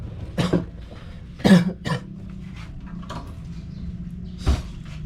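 Several raspy coughs from a person with a cold, spaced irregularly over a quiet room, with a couple of louder bursts and a soft thump.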